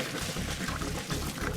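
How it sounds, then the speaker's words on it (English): Water from a pot of cooked pasta pours out in a continuous, loud, splashing rush, close up and without talk. "Just drain the pasta."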